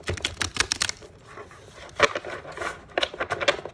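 A deck of Supernatural cards being shuffled by hand in bursts of quick papery riffling and flicking, close and crisp, with a short lull between rounds.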